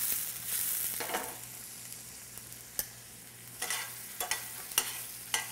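Bologna and onions frying in a pan, a soft continuous sizzle close by with occasional sharp scrapes and clicks of stirring, no voices.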